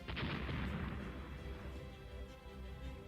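A torpedo hit explodes in the naval strategy game Rule The Waves, a heavy booming burst with a rumbling low tail that fades over a few seconds, heard alone.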